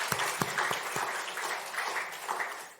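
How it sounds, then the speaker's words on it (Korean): An Easter church congregation applauds, producing a dense, steady wash of clapping from many hands with a few sharper, nearer claps at the start, slowly fading toward the end. "우리 다시 한번 부활하신 주님께 감사와 영광의 박수 올려드립니다"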